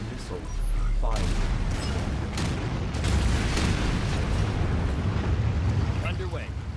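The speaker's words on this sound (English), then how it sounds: "Battle stations, they're attacking. Nuclear missile. Fire." A nuclear missile launch in Anno 2205 roars out as a dense, continuous wall of rumbling blast and explosive noise, loud and sustained throughout with a few sharper bursts.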